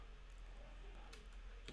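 A few light keystrokes on a computer keyboard as a web address is typed into a browser, faint and scattered over a steady low room hum.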